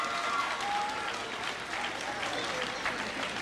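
Graduates at a 2019 Buffalo Arts Academy graduation ceremony clap together in a steady, dense wash of applause that holds evenly throughout, with a voice speaking faintly over it.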